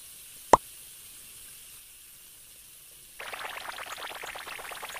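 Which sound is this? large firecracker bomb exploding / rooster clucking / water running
water running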